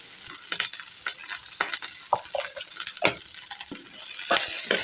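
Pieces of ridge gourd and sweet corn are stir-fried in a pan, with a steady sizzle broken by repeated scraping and tossing strokes of a spoon, close and fairly loud with no talking.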